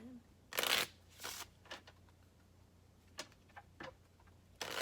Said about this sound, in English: Okay, shuffling again.